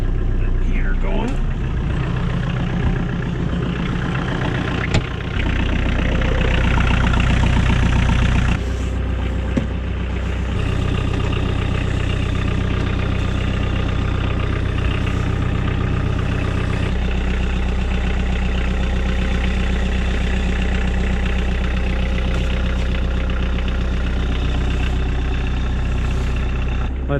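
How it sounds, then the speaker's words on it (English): Tractor fitted with a 72-inch MK Martin Meteor snowblower idles while warming up on a snowy day, a steady low engine drone with a brief louder stretch early on and faint clanks. "Let the tractor warm up a little bit more."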